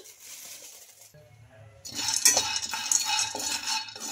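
Raw peanuts tumble into a kadai on a stove for chutney, a faint scrape giving way to a brighter rattling, clinking scatter of nuts against the metal pan, close and fairly quiet.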